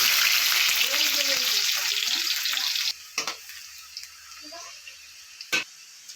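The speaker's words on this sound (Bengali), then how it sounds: "মাংস ভাজা তেলটার মধ্যেই পেঁয়াজটা দিয়ে দিচ্ছি" Onions hit hot oil left over from frying chicken for a Bengali chicken curry, giving a loud, dense sizzle for about three seconds that then drops to a faint crackle broken by a few sharp utensil clinks.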